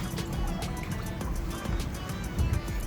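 Water trickles and splashes steadily out of a Mustang's engine bay while the motor is being pulled, a close, continuous wet pouring with small gurgling surges.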